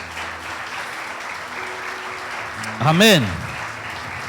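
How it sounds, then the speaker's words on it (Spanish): A church congregation at a Sunday service claps in steady, moderately distant applause. A single voice calls out briefly near the end. "Puede darle un aplauso a Jesucristo"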